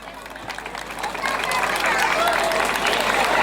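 At a highland festival beauty pageant, a crowd applauds a contestant being called forward, the clapping swelling louder and denser over a few seconds, with voices mixed into the noise.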